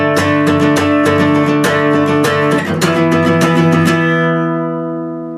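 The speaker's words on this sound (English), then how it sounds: "I'm going to play the transition all together with the strum pattern that we went over in real speed" Guitar strumming a D5 to E5 power-chord transition in a steady strum pattern at full speed, bright repeated strokes, loud and close, then ringing out at the end with no talk.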